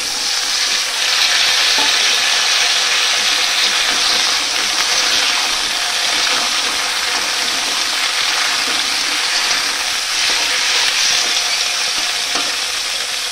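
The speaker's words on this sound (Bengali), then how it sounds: "আলু আর বেগুন এটা দিয়ে দিলাম। একবারে একটুখানি একটু ভেজে নেব" Potato and eggplant pieces frying in hot oil in a pan, a loud, continuous dense sizzle close by with faint stirring, no talk.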